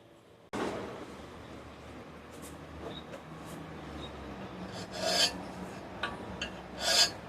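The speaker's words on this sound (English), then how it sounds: "So yeah, continue filing." Steady rasping scrape of a file shaping a steel knife blade, continuous and close, with a few sharper, brighter strokes near the end.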